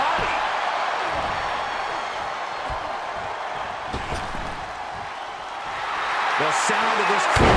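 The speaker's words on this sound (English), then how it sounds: "The sound of this crowd is deafening" Dense crowd roar from a WWE 2K22 steel cage wrestling match on PS4, a steady loud wash of cheering that swells near the end, with a few impact thuds and a commentator-like voice rising briefly.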